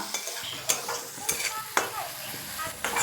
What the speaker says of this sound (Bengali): একটু তেল ছাড়লেই বুঝতে পারবো যে মশলা কষানো হয়ে গেছে